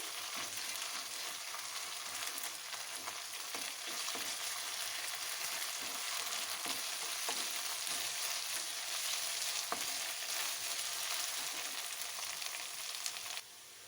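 Onions with ginger-garlic paste frying in a pan for stuffed capsicum, with a dense, even sizzle and soft stirring close by, steady for the whole stretch before it drops off at the very end.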